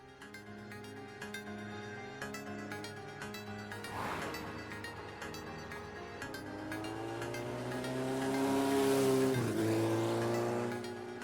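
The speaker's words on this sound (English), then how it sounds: "Batman speeds off at his motorcycle, headed to the deep woods of Gotham for his final battle with the Wendigo" Batman's motorcycle in an audio drama speeding off, a rising engine roar with revving and a squealing, sweeping pitch that swells louder toward the end over a background music score.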